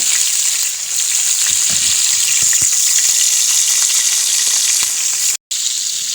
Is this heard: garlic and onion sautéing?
yes